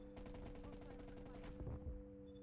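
Rapid DMR 14 rifle fire in a first-person shooter, a sustained burst of shots loud in front with a heavier crack near the end, a voice faintly present underneath.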